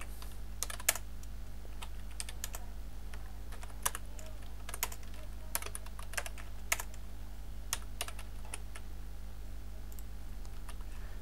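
Typing on a computer keyboard while writing HTML code, with irregular bursts of crisp key clicks over a steady low hum, close and fairly quiet, no speech.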